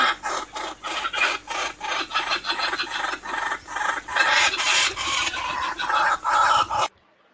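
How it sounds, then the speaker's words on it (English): A kookaburra, the Australian kingfisher, gives its chuckling, laughter-like call: a long run of loud, raspy, rhythmic cackling bursts that swells and carries on for about seven seconds before stopping abruptly. "The kookaburra is known for its chuckling voice which sounds like human laughter."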